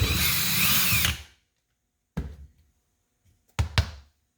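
Power drill with a hole saw cutting through EVA foam down to a wooden backing, a loud whirring burst of about a second that cuts off, followed by a few short knocks and taps.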